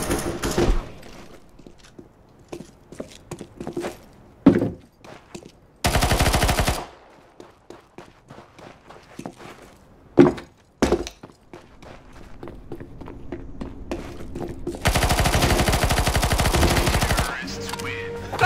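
A PP-Bizon submachine gun fires in Counter-Strike: Global Offensive, coming as several loud sustained automatic bursts between quieter stretches of footsteps, thuds and other game sounds.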